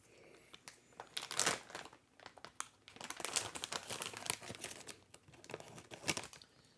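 A snack chip bag crinkles and rustles in close, irregular bursts as scissors cut into the packaging, the noise quiet but continuous with sharp crackling peaks.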